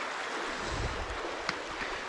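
Creek water flowing steadily through a park in freezing-rain weather, a continuous broadband wash with low rumble, fairly close and even in level, with one brief sharp tick partway through.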